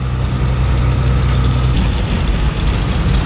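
An unloaded truck's heavy engine labours up a road on a single-lane route, with a loud, steady low rumble that shifts slightly partway through.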